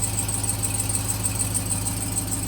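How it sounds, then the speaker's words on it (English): Ram TRX engine idling with a rapid, steady ticking, heard close and continuous alongside a high-pitched squeal and low engine hum. "because y'all have already said that this is a normal tick"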